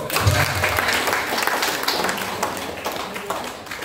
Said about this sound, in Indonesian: Jadi kita harus tepuk tangan.